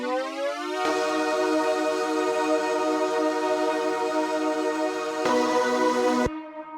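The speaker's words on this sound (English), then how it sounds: "We have the tune-up pad, we have the Atmos pad, we have the vocals." Layered synth production with a tune-up pad and an Atmos pad under vocals: sustained harmonic pad tones entering after a soft start, holding steadily, swelling briefly near the end, then cutting off abruptly.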